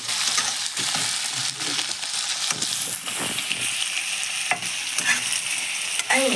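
Onion and ginger-garlic paste fry in a pan for pork curry, a loud continuous sizzle broken by repeated scraping strokes of a spoon stirring the mixture.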